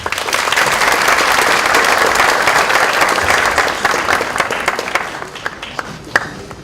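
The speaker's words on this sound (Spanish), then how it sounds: "Por favor, recibámosle con un fuerte aplauso." A lecture hall audience gives a guest professor a warm round of applause at a tsunami-disaster talk: dense, steady clapping from many hands that holds for several seconds, then thins and fades out.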